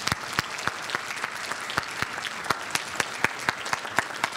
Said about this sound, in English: I want to applaud.